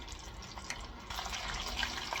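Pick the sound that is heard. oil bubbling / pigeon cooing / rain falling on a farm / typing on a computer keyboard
oil bubbling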